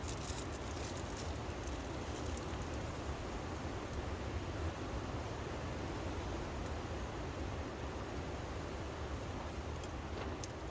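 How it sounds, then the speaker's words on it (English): Wind sweeps through a winter forest campsite in Scotland, a steady, dense roar with no letup and no voices. "Definitely sounds a lot windier tonight."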